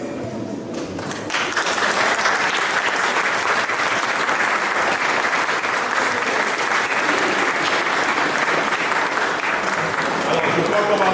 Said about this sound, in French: Alors nous applaudissons très fort pour ces enfants qui sont désormais baptisés.